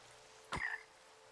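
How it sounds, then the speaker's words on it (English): A single frog croak in Minecraft, one short, fairly clear call over a quiet, faint background with no talk. "A frog."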